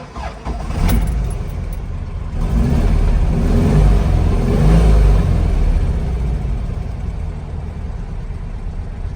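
A 1961 Porsche 356 engine cranks and catches, then settles into a loud, close, steady rumble with a slight rise in revs partway through and no talking.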